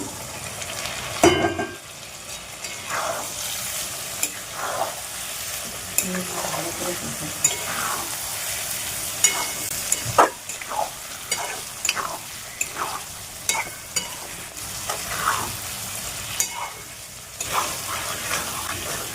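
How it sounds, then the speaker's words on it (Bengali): Chicken pieces fry in spiced oil in a pan, sizzling steadily at close range while a utensil scrapes and knocks against the pan in repeated stirring strokes, with a louder clatter near the start. "মশলাটা তেল ছাড়ছে আমার মশলাটা হয়ে গেছে তেল ছাড়া আরম্ভ হয়েছে এবার দেখো মাংসটা দিয়ে দিলাম"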